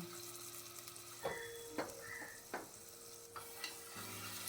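Ginger garlic paste fries in oil inside a pressure cooker, a quiet steady sizzle broken by several soft spoon scrapes and taps against the pot, with no one speaking.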